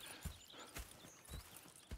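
Horse hooves clip-clop in Red Dead Redemption 2, a few separate hoof strikes spread over two seconds, fairly close and clear, with no talking over them.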